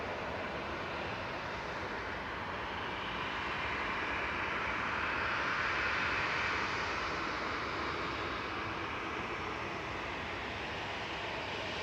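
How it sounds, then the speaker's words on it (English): An Aer Lingus UK airliner landing at Manchester Airport makes a steady, broad engine roar that swells slightly and then holds for several seconds at moderate distance, with no talk. "Coming over the threshold now is Aer Lingus UK."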